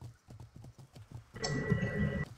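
Hooves of a horse in a video game, a steady run of soft, even clip-clop beats, followed by a louder, denser wash of game sound over the hoofbeats.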